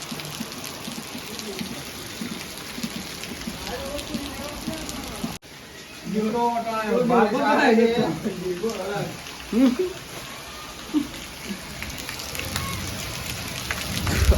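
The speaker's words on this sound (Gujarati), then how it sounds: "આવી ગયો જોરદાર વરસાદ" Heavy rain pours down as a steady, dense hiss that fills the whole stretch, with people talking loudly over it partway through.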